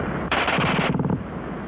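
German WWII machine gun firing a short, very rapid burst of about half a second, loud and close, followed by a fainter rattle of echoing shots.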